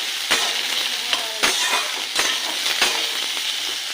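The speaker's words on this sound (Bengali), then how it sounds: "এবার এটাকে ভালো করে লাল করে ভেজে নেবো আলুটাকে।" Diced potatoes fry in oil with cumin, chopped onion and slit green chilies, a dense continuous sizzle broken by repeated sharp scrapes and clinks of a spatula against the pan.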